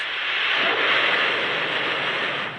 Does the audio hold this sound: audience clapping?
no